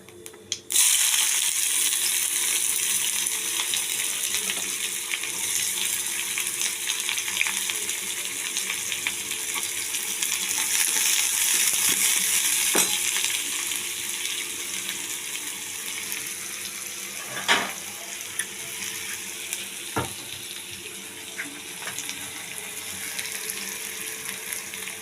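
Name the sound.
onions frying in oil in a pan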